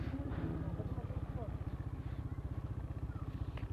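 A mud-spattered motorcycle idles close by with a rapid, even putter of low engine pulses, steady throughout with a faint voice in the background.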